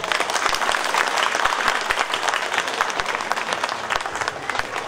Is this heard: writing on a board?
no